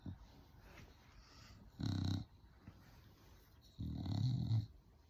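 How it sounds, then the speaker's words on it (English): A dog snoring nearby, two long rumbling snore breaths a couple of seconds apart, low and throaty over soft background. "he snores."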